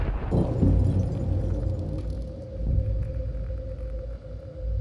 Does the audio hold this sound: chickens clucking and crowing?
no